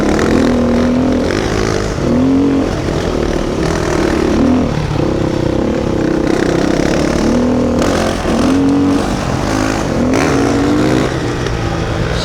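A Beta 390 or CRF 450 dirt bike on an outback trail in the Flinders Ranges revs hard in repeated rising bursts as the rider pulls wheelies, loud and close, its engine note climbing and falling several times.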